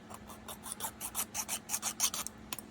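A hobby tool cuts a gun-mantlet part for a Tamiya M2A2 ODS Bradley model kit free of its plastic sprue, giving a quick run of soft rhythmic rasping strokes, close and fairly quiet.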